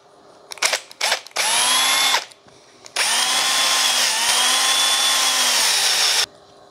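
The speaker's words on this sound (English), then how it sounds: "Then from there, I can flip the piece of plastic over and drill from there. Because this is a step drill bit" A step drill bit bores through a plastic panel for fitting charge ports in a Landcruiser 200, heard up close as a few brief stuttering bursts followed by two sustained high whining runs of about one and three seconds.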